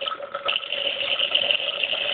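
Wine gushes through a cyclone-type aerator held over a glass, a steady loud hissing, whooshing rush of liquid and air, close and continuous throughout.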